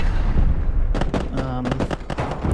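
A tank cannon firing in the World War II tank game Panzer Elite, a run of sharp booming reports with ringing echoes over a low rumbling engine drone, close and loud.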